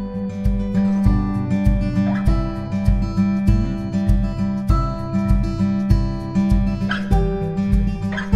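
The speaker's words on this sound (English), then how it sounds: "Puppy dog. Does someone want snacks?" A puppy whimpers and yips again and again, in short, high cries repeated over steady, rhythmic background music.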